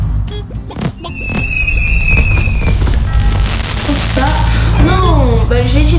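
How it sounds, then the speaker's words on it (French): Fireworks in the Crossy Road mobile game, popping and crackling bursts with whistling squeals over steady game music, someone speaking French throughout. "Et il y a des feux d'artifice."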